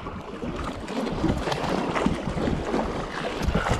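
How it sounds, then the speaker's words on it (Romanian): Wind buffets the microphone in a steady roar, with a low rumble and a faint hint of water throughout, while fishing amid large waves. "ne-a disperat vântul ăsta"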